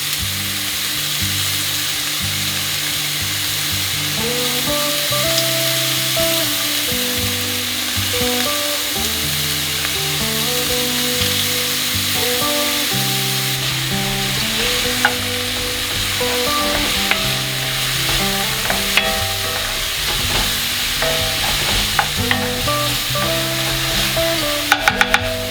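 Onion and garlic sizzle in a pan for a vegan lasagna, a steady hiss heard up close throughout. Musical tones run underneath, and clicks of stirring come later on.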